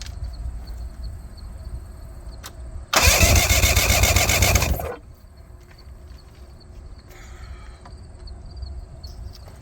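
Old outboard boat engine pulled from a junkyard cranks loudly for about two seconds, then settles into a low idle with a faint whine and some background chirping.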